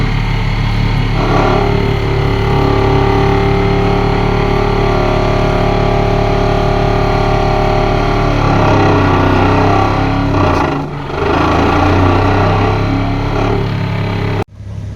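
An excavator engine runs steadily while a vibro hammer drives a giant pipe into the ground, a loud continuous mechanical drone with a rhythmic pulsing throb, briefly dipping near the end before cutting off.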